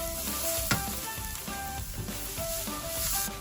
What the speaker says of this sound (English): Now we need to cook this for around 2 minutes until the raw smell of the masala, the ginger and the garlic goes away.